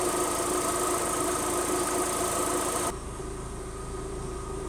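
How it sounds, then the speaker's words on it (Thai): A car engine with ECU fault code U2015 runs roughly, a steady droning idle close by that drops abruptly to a quieter, lower hum partway through. "ฟังเสียงเครื่องยนต์นะครับเครื่องยนต์จะมีอาการ ติดแล้วก็ไม่นุ่มนวลนนะครับ"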